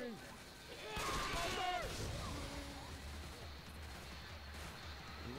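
Gunfire in Left 4 Dead 2 during the Swamp Fever campaign: a quick cluster of sharp shots early on, then a steady low game ambience with faint voice-like sounds underneath.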